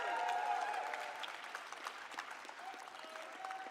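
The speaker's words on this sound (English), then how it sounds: "Thanks for playing along and clapping for that." An audience claps in response to a mock cheer for the Hamilton Hammers AHL hockey team, a steady dense patter of many hands that stays fairly loud for a few seconds before thinning slightly, with no talk over it.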